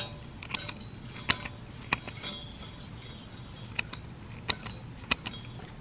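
Fresh rosemary sprigs being snipped into small pieces, a series of sharp, irregular crisp clicks and snips, close and moderately loud over a faint background hiss, with no talking.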